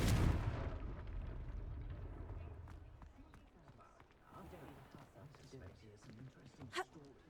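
A Confringo blasting curse explodes in the Hogwarts Legacy video game, a loud booming blast that rumbles away, followed by quieter scuffling, running steps and scattered clatter.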